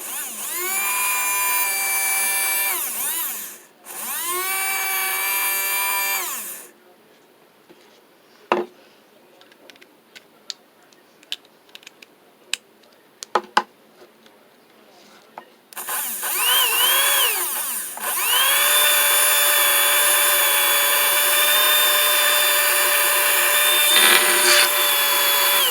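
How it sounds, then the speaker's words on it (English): A 9-volt battery-powered electric motor for a speed-build RC car runs in a loud, high, steady whine, cuts out, starts again, then goes quiet apart from scattered clicks and taps before the whine returns and holds to the end. "let's hook up the batteries and see what the motor sounds like"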